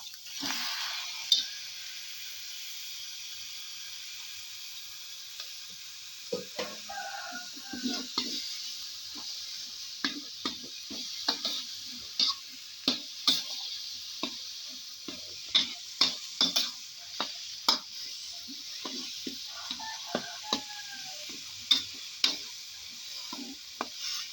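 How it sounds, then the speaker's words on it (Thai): Wolffia (khai phum) is stir-fried in a pan, where a soft continuous sizzle runs under irregular sharp clicks and scrapes of a spatula that grow more frequent toward the end. "หลังจากนั้นเราก็ ไข่พัมนะคะลงไปคั่ว"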